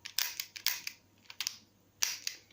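Sharp mechanical clicks and clacks as the hammer is drawn back on a Dan Wesson 715 airsoft revolver, several close, crisp metallic snaps in an irregular sequence with no talk.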